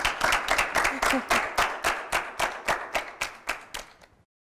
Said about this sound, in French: Applaudissez-le s'il vous plaît.